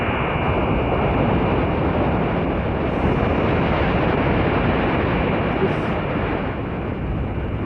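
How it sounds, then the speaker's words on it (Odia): A thunderstorm with steady wind and heavy rain, a dense, continuous roar that stays loud and unbroken throughout. "ଝଡ଼ ବର୍ଷା ଆରମ୍ଭ ହେଇଗଲା କିରେ ପୁଅ?"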